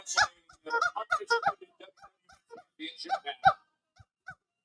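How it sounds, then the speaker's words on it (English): A rubber chicken toy squawks in a rapid string of loud, nasal honking bursts, with a few more squeezes after a short pause and no talking over it. "Never forget the rubber chicken."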